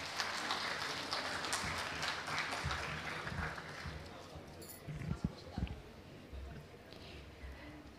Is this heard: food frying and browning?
no